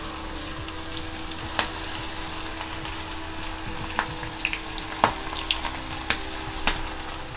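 Okra frying in hot oil over a low flame gives a constant crackling sizzle with scattered sharp pops and light stirring taps, close and with no voices.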